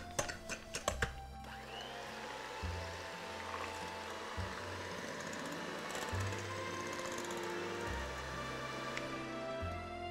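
Electric mixer whipping eggs and sugar for a Neapolitan chocolate migliaccio: a few clanks at the start, then a steady, continuous motor whirr close by, with faint background music.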